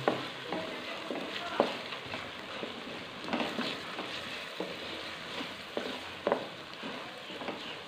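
Daal being stirred in a pot after turmeric, coriander powder and salt go in, with a soft sizzle and uneven spoon scrapes and knocks recurring every second or so, close by and with nobody speaking.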